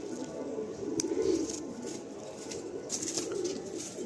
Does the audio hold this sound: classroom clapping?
no